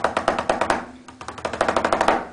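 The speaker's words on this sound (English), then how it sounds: "The pad itself makes a sound like this with just striking the pad." A Remo practice pad converted to a mesh-head e-drum is struck in quick, even runs of light taps, a short pause falling in the middle, each hit dry and close.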